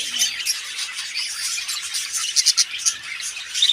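Parakeets and lovebirds chirping in cages, a busy stream of high, rapid tweets and squeaks close by with no voices.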